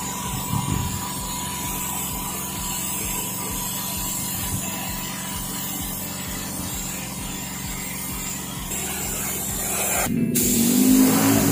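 Spray gun laying a first coat of black paint on the right-side body panel of a 2013 Honda Vario 125 scooter, a steady hiss over a low compressor hum, swelling slightly louder near the end.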